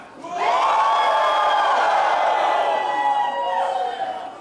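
A concert crowd at a live rock show in Moscow bursts into loud cheering, shouting and whooping, holding a sustained roar for several seconds before tapering off.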